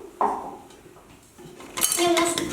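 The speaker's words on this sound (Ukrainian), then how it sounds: "Ми ложкою зараз дістанемо." A spoon scooping crystallization solution from a container during a classroom experiment, with clattering metal-on-dish scrapes and clinks close by and voices murmuring in the background.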